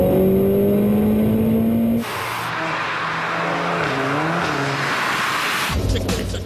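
A Rothe Motorsport VW Golf R20 race car with a heavily boosted 2-litre turbo engine, loud and close, revving up through rising gear pulls with a shift change partway through and a strong, continuous engine roar.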